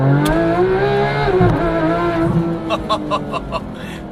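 A 2015 Porsche 911 GT3 flat-six with a 9,000 RPM redline revs hard with a high, smooth wail that rises and falls, then breaks into a series of quick sharp blips near the end, loud and close.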